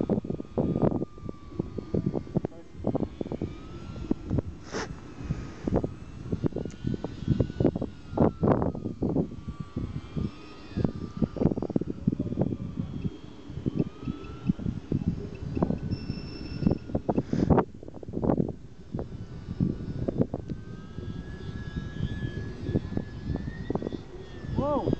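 A small radio-controlled Hobbyzone Yak 54 model airplane engine whines and buzzes overhead, rising and falling as it passes, with gusty wind noise and people talking excitedly nearby.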